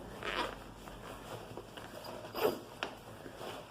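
A zipper inside a handbag is pulled in a few short, quiet rasps close by, with faint handling noise between them.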